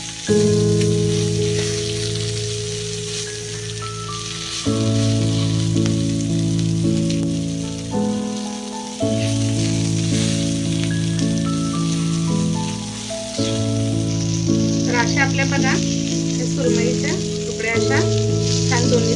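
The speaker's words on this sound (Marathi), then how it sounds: "आणि सर्व अशा तुकड्या दोन्ही साईड छान असं भाजून घ्यायच्या बघा।" Pieces of surmai (kingfish) fry in a pan and are turned to brown on both sides, giving a steady sizzle that runs throughout beneath continuous tonal background music.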